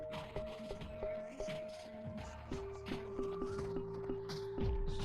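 Crystals in a video game cave, each giving off its own tone, a series of bright chiming notes over busy clattering game sounds, fairly faint, with no talking.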